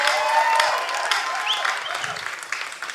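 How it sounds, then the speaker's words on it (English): A steady wash of audience applause, loud and dense, many hands clapping continuously with no breaks. "Give them a clap."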